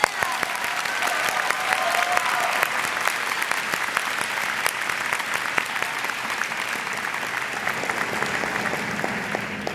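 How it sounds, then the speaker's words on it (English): Audience applause for graduates at a 2017 Drexel University School of Public Health commencement ceremony, a steady, dense wash of many hands clapping that holds at an even loudness throughout with no talk over it. "I'd like to lead one more round of applause for all of our graduates today"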